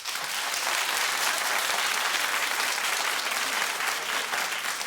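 A television talk show studio audience claps steadily, a dense even wash of applause with no break, loud and close.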